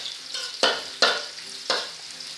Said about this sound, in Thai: ผัดกระเทียมให้หอมเหลืองดีเลยนะคะ